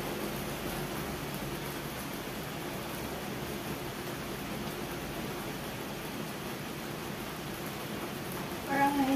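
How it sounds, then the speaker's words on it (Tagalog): Heavy rain pours on a mountainside in Hong Kong, heard as a steady, dense broadband hiss that holds nearly constant throughout, with a brief louder burst near the end. "Lakas ng ulan dito sa bundok ng Hong Kong."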